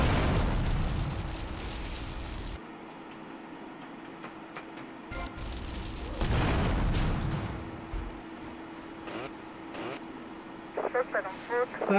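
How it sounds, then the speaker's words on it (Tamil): Car exploding in GTA Vice City: a loud booming blast with a rumbling, crackling tail, followed by quieter game sounds and further sharp bursts, with someone talking over parts of it. "ஐயே, என் கார வெடிச்சிரும்."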